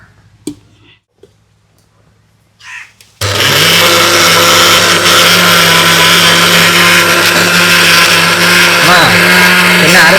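An electric mixer grinder grinding batter with three cardamom pods starts abruptly after a few faint knocks and runs loud and steady, a continuous whirring drone that fills the rest of the clip.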